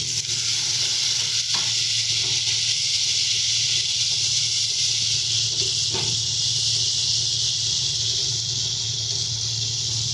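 Water splashed into frying spice paste for a summer puti fish and dried mango dish sets off a loud, steady hiss and sizzle that persists close and unbroken throughout, with no voices.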